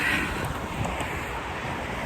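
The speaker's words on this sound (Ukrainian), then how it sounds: "А так оцей вітрюган, такі пориви, як задує, як задує." Strong gusty wind buffets the microphone outdoors, a steady loud roar with slight surges across the whole moment and no voices.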